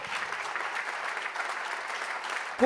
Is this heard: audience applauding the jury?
yes